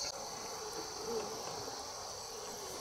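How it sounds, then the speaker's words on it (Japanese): Insects, likely crickets, chirping near a remote dam, a steady high-pitched trill droning continuously, soft and outdoors, with no talk. "虫、 虫の音するやん。"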